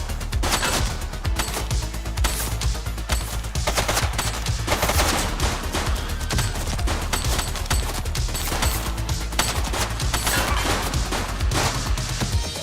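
Heavy, continuous automatic gunfire in the police game The Precinct, loud rapid bursts of shots filling the whole stretch with no pauses.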